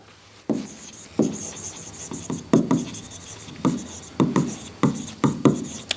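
Chalk or marker strokes on a classroom board during an economics lesson, a series of close, irregular scratchy taps and rubs in quick bursts, with no talking.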